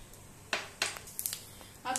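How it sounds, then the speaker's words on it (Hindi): Mustard seeds crackle and pop in a little hot oil in a wok, a few sharp scattered bursts standing out against near silence. "आप सुन सकते हैं अपनी राई चटकने लगी है।"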